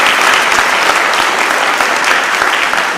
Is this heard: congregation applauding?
yes